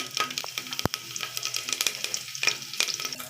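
Curry leaves and mustard seeds crackle and sizzle in hot oil for a vegetable sambar, a steady close frying hiss with sharp pops and one loud spatter burst.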